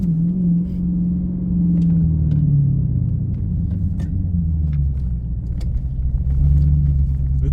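A 2015 Hellcat with its 6.2L Hemi V8 in track mode idles steadily nearby, a deep continuous low rumble with a slight wavering in pitch and no talk over it.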